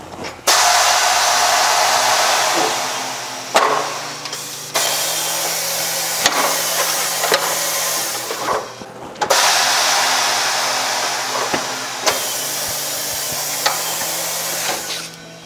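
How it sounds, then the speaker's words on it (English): Steady hiss of air escaping a 225/45R18 low-profile tire with its valve core removed, on a Protec TC-513A tire changer; loud and continuous for most of the stretch, with brief breaks and small knocks. "We're gonna remove the valve core."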